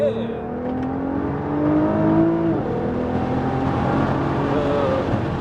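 Nissan GT-R R35 accelerating on a race track during a driving experience, engine note climbing steadily through the gears with a brief shift dip midway, loud and close from inside the car.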